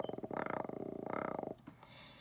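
A person imitates a cat's purr with the voice, producing a steady rhythmic rumbling in two long pulsing bursts, close and fairly loud, ending in a brief breathy sound.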